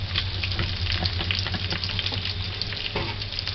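Fish frying in hot oil on a stovetop over high heat, a continuous close crackling sizzle with dense popping and spattering, fairly loud with no voices.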